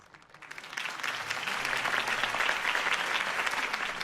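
Crowd applause from a rally audience in Batman: The Telltale Series, steady dense clapping that swells in after a quiet start and holds loud and continuous throughout.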